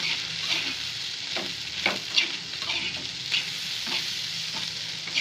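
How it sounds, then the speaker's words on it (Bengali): Bitter gourd and potato frying in fish oil over a low flame, a steady close sizzle broken by periodic scrapes and stirs of a spatula, with no talking. "এবার আমি মিশিয়ে নেবো উচ্ছেটা আলুটার সঙ্গে।"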